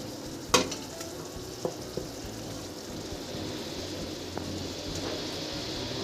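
Rice stirred into a simmering gravy for meal maker pulao, a soft continuous sizzle and bubbling with a few sharp scrapes and clinks of a spoon against the pot.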